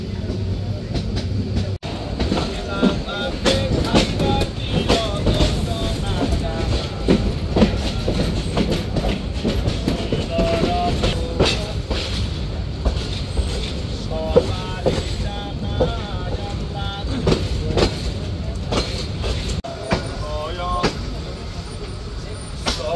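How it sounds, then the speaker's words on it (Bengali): Mohanagar Express train from Dhaka to Chittagong runs at night, a constant loud rumble with clattering wheels heard from inside the moving carriage for the whole stretch, faint voices occasionally mixed in. "একটি চলন্ত ট্রেন, নিঃসঙ্গ রাত আর জানালার বাইরে ছুটে চলা আলো আঁধারের খেলা"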